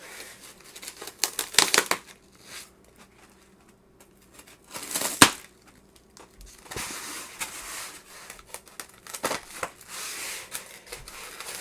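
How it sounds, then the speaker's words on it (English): Scissors snip through packaging amid crinkling plastic and paper rustles, in bursts with quiet gaps between. "Scissors."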